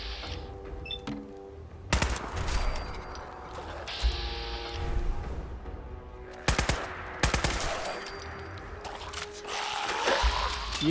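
Bursts of rapid automatic gunfire in Fallout 4, several loud volleys separated by quieter stretches with game background sounds.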